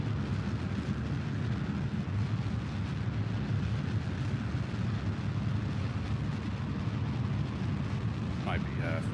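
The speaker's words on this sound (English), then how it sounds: "Damn, I feel my floor shake from thunder." Deep, continuous rolling thunder from a heavy storm outside rumbles heavily for the whole stretch, with a muffled voice faintly underneath.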